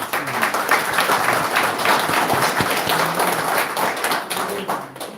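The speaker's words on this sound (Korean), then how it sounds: "박수 한번 보내주시죠." Sustained crowd applause at the launch ceremony of an emergency committee for fair elections ahead of the June 3 presidential vote, dense steady clapping filling the room for about five seconds and tapering at the end.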